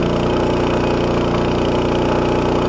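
A Ducar 212cc small engine runs at a steady, loud drone with an even pulse, close by, with no voices.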